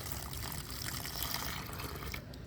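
Liquid homemade fertilizer pours from a mug onto a fruit plant in a steady, close, continuous stream of splashing and trickling water, with no voices.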